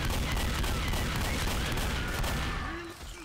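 Continuous fusillade of gunfire from Left 4 Dead survivors shooting down the Witch, loud and dense throughout, easing slightly near the end with a faint game sound.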